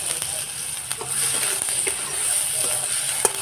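Sliced tomato and a spoonful of turmeric sizzle in a kadai while a Bengali parshe fish curry is being made, giving a steady bright frying hiss with a few light stirring clicks and no talk.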